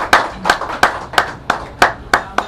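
Brief hand clapping at a Nepali Tamang music video launch event, about eight sharp, evenly spaced claps, loud and close, with no voices over them.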